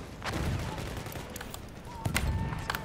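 Rifle shots go off in the video game Battlefield 1, a 1906 rifle among them, with sharp cracks and a few bursts spread over several seconds against the game's background noise, under a soft voice.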